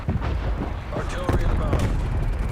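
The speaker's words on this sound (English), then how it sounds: "Hostile artillery targeting active." Incoming artillery in Call of Duty: Cold War makes a heavy, rumbling barrage of low booms and crackling blasts, with a game voice speaking over it.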